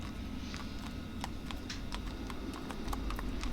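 A horse's hooves clip-clop at a walking pace in Shadow of the Colossus, a string of light, regularly spaced clops over a constant low ambient drone.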